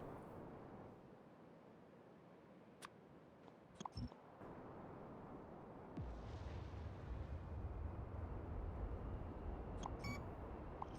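Artillery fire in the video game Factorio, heard as scattered sharp cracks and thuds over a steady rumbling wash, with a deeper rumble building toward the end and a few faint beeps.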